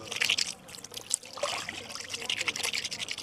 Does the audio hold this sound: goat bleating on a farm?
no